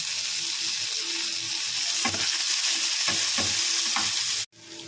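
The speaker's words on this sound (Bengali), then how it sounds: "এর মধ্যে পেঁয়াজ দিয়ে দিলাম শুকনো পেঁয়াজ" Dried onion frying in oil with five-spice seeds and dried chili, a loud continuous sizzle with several stirring scrapes before it cuts off abruptly near the end.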